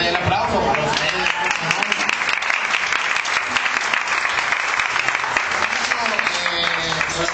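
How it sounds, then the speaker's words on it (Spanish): A crowd applauds steadily and loudly throughout at a dance academy inauguration, dense clapping filling the whole stretch with a faint murmur of voices underneath. "aquí el aplauso para ustedes"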